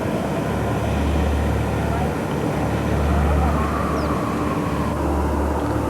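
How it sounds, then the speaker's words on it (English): Northrop B-2 bomber taxiing out of the Northrop facility at Palmdale, its jet engines giving a steady, heavy rumble with a broad roar and pulsing low drone throughout. "2 days later, on Monday, July 17th, the B-2 again taxied out of the Northrop facility at Palmdale."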